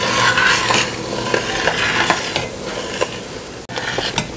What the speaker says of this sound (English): You have to stir this constantly.